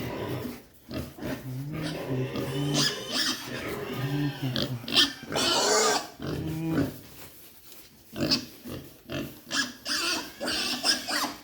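Native pigs fed banana, gabi, corn and madre de agua grunt and squeal loudly up close on a farm, in overlapping bursts with brief pauses between them.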